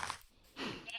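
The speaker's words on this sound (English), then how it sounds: "Baby sheep." A baby sheep in Minecraft gives a short, faint bleat, a single thin wavering call.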